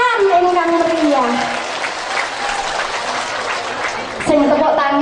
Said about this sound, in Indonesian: Tepuk tangan ingkang meriah.